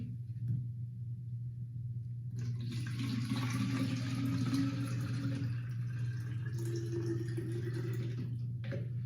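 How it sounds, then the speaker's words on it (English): Warm water pours steadily for several seconds into a container while making homemade window and glass cleaner, over a low steady hum in the room. "we're going to start with 2 cups of warm water"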